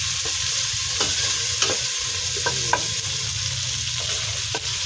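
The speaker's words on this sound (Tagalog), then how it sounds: "Mikos-mikos muna natin ang ating bawang at ang ating mga sangkap natin." Garlic and other ingredients sauté in a pan for a Filipino fish stew, giving a steady, close sizzle broken by periodic scraping strokes of a stirring utensil, with no talking.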